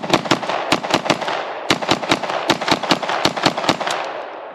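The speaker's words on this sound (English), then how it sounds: "I don't think I'll ever get tired of shooting this gun." An IWI Uzi Pro micro pistol fitted with a folding brace fires a rapid string of sharp, loud gunshots. About twenty cracks come in quick, slightly uneven bursts, with no talk.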